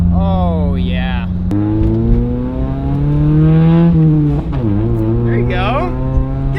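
A Mazda Miata track car's engine holds a loud, sustained rev that climbs, dips and climbs again. Excited voices talk and cheer over it, close to the car.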